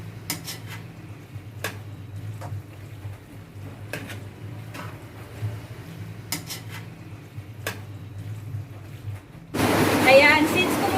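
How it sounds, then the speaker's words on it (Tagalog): A spoon stirs Filipino-style spaghetti sauce in a pot, giving sparse metallic clinks and scrapes over a low simmering hum, and a louder sizzle or rush bursts in near the end. "Then, pagkatapos ito, hahaluin siya. At hahayaan na kumulo."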